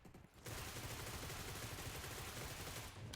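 Rifle fire in PUBG Mobile, a continuous rapid burst of shots starting after a brief pause and running almost to the end, loud and sustained, until the magazine empties.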